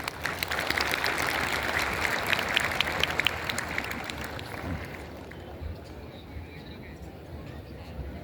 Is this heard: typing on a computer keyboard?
no